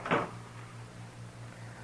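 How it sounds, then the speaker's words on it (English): A door is shut once, a single short knock near the start, followed by a quiet room with a steady low hum in an old western radio drama. "Shut the door, Chester."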